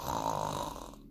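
A person imitates snoring aloud for a story reading, producing one long, loud, rasping snore close to the microphone.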